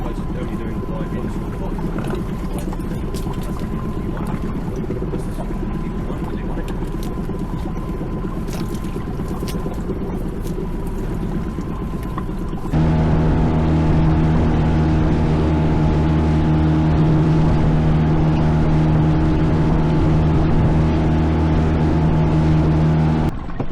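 A fishing boat's engine hums steadily as it motors off to a new spot off Orkney, then revs up partway through into a louder, droning tone.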